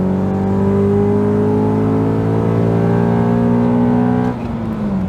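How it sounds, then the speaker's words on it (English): Modified Honda Accord CL9 Type S with a K20 engine accelerating hard in third gear, a loud, rising engine drone that climbs steadily in pitch before easing off near the end. "Wow, the K20 pulls."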